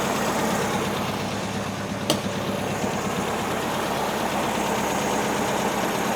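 A 1971 VW bus with a new air-cooled engine idles steadily and close by, a constant low rumble with one brief sharp click midway, with no talk.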